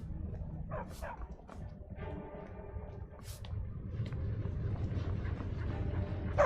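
Dogs barking and yipping in a fantasy role-playing video game, a few scattered barks over a steady, busy game soundscape, with no talking.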